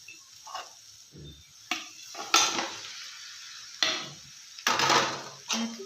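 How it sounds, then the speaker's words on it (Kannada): A spoon scrapes and stirs mashed potato with dried coriander in a pan for a potato palya, giving irregular close knocks and scrapes against the metal with a faint sizzle beneath, no talking. "ಚೆನ್ನಾಗಿ ಮಿಕ್ಸ್ ಮಾಡೋಣ"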